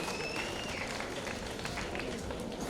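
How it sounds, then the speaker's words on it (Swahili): Distant crowd applause at a technical institute graduation ceremony, a steady wash of clapping from a large audience, faint and continuous with no clear breaks. "Wapigieni makofi au viongozi"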